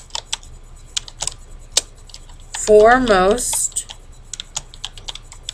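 Computer keys tapped in scattered, sparse clicks while typing into a slide footer, with a voice speaking briefly in the middle of the keystrokes.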